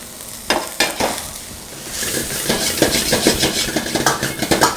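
Noodles tossed and fried in a hot street-food wok, with a steady sizzle, metal scraping and clanking of the pan, and sharp rhythmic tossing knocks, close and fairly loud.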